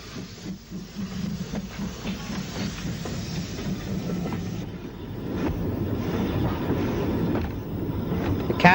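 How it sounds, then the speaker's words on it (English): Cowes train hauled by steam locomotive no. 30 Shorewell diverging onto the Newport line at Smallbrook Junction on the Isle of Wight, a steady rumbling roll of wheels on rails with wind buffeting the microphone throughout. "Cowes train, with number 30, Shorewell, diverges onto the Newport line at Smallbrook Junction"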